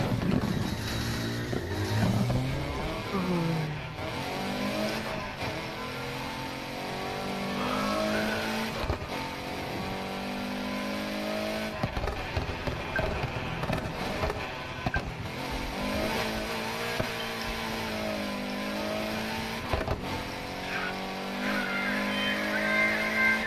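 Car engine with racing tire noise in the Need For Speed Heat driving game, a steady revving drone with shifting pitch running throughout, mixed with game music and occasional talk.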